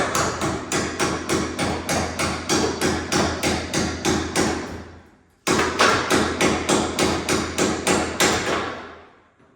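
Rapid, evenly spaced metallic blows struck with a wrench handle while mounting a truck cab, in two long bursts separated by a short pause, loud and close, with no talking.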